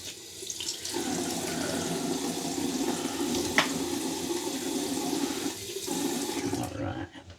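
Tap water runs steadily to rinse a 1947 Gillette Aristocrat Jr safety razor, a close, even rushing stream with one small clink partway through, briefly interrupted before it resumes and then stops.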